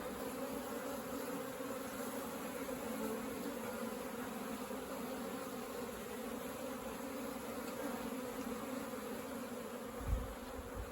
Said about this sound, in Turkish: Arı bugün harika bir şekilde